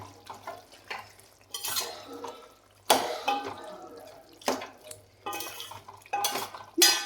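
A spoon stirs beef curry in a pot, giving repeated scraping and clinking strokes in an uneven rhythm, close and fairly loud, with no talking.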